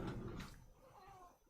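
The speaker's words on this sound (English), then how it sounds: "Oh, the cat is scratching at the door." A house cat meows and scratches at a door, wanting to be let out; a close, fairly loud cry at the start fades into softer scuffing.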